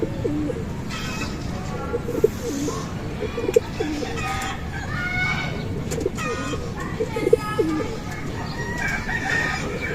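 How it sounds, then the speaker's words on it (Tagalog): A busy flock of pigeons on a rooftop with soft repeated cooing and scattered calls over a constant low background, with some faint talk mixed in. "yung mga kalapati natin"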